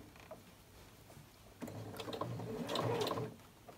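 Sewing machine stitching through thick fabric, a low mechanical whir that speeds up and grows louder midway, with a rattling, labouring chatter and no speech.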